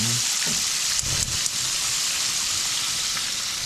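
Eggplant (bigan) sizzling in a pan of hot oil, a dense steady crackle and hiss with a few brief clunks of the pan near the start.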